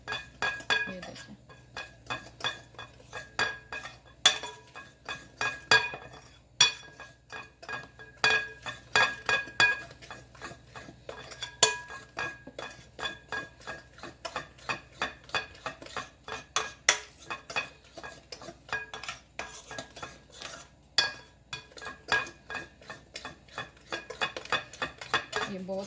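Pancake batter is mixed in a bowl, with quiet rhythmic clinks and scrapes of a utensil against the bowl that repeat steadily throughout.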